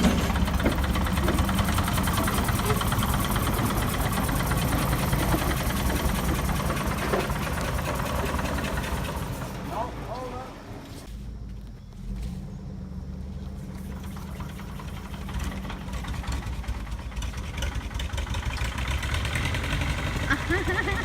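An old tractor being brought back to life after a stubborn no-start, its engine running with a steady, dense mechanical chug and idle close by, dipping briefly midway before settling back into a continuous rumble.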